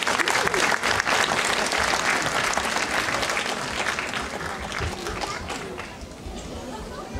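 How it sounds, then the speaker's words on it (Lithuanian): Audience applause at a Lithuanian stage event, honoring a family that has just been presented. Loud, steady clapping from a crowd continues evenly throughout and tapers slightly near the end. "Plojimai šiai šeimai."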